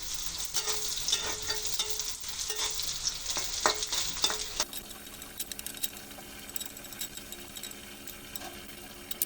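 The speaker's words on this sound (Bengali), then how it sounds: "কিছুটা কিশমিশ দিয়ে দেবো এর সঙ্গে দিয়ে এটাও ভেজে নেবো" Onions and raisins fry in hot oil in a pan for chicken baluchi, a bright, steady sizzle with scraping stirring strokes near the start, then a quieter, even crackle for the rest.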